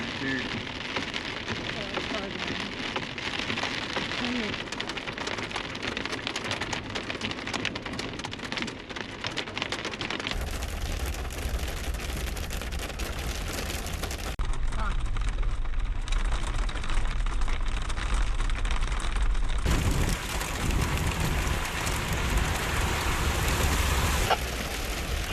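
Hail and heavy rain pound steadily on a vehicle during an overlanding trip in Utah, a dense continuous drumming and hiss that shifts in tone partway through, with a low engine or cabin rumble beneath.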